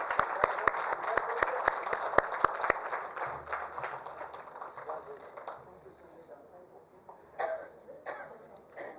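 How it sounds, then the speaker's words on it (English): Audience applause at a sports awards ceremony, dense clapping that starts loud and close, then gradually thins and fades, with a few coughs and murmurs near the end. "I think the applause should keep coming."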